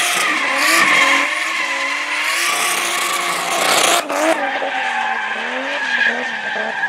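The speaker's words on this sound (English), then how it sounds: "it's drift time." A 240sx with an RB26 engine drifts: loud, sustained tire squeal wails over the revving engine, pitch rising and falling, with a sharp break near the middle before the screech and engine continue.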